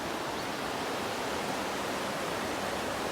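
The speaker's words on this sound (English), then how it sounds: "You hear the river beside me." A river runs beside the Appalachian Trail near Uncle Johnny's hostel, a steady broadband rush of flowing water that fills the clip evenly, close and fairly loud.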